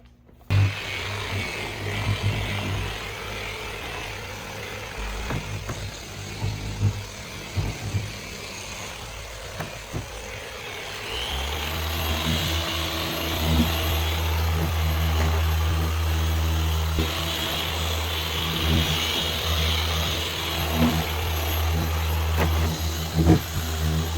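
A car polisher works over vehicle paint during a polishing step, its steady motor drone rising and growing louder partway through and then running continuously at close range, with no talking.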